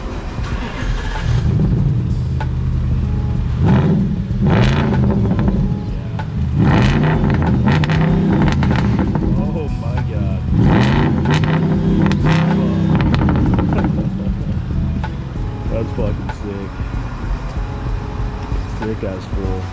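An Audi S5 with a muffler-delete exhaust, revving repeatedly up and down in a series of loud, rough, droning surges at close range, with people talking over it.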